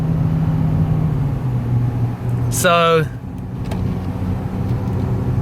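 A 2019 Acura TLX A Spec front-wheel-drive sedan launches hard from a standstill, its engine drone steady and close inside the cabin, briefly broken by a rising whine and a spoken word.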